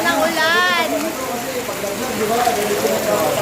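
Heavy tropical rain pouring on Johnson Island, Palawan, a dense, loud, continuous hiss of downpour, with a voice speaking over it near the start.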